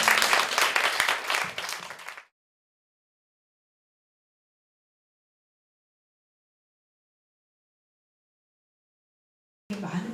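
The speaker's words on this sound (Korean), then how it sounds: "박수로 다시 한번" Congregation applause at a church founding service of a Korean Presbyterian church: dense, loud clapping for about two seconds that fades and stops, followed by long silence and a brief return of sound at the end.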